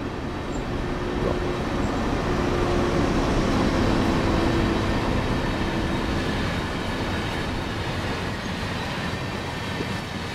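A train rolls past in Train Sim World 4, a loud, continuous rumble with a wide roar of wheels on track that stays steady throughout.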